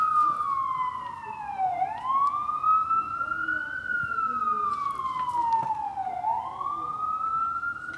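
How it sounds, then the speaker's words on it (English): An emergency vehicle siren wails in slow rising and falling sweeps at a steady, fairly strong level, with traffic rumble and a voice faintly underneath. "the siren's getting louder and louder"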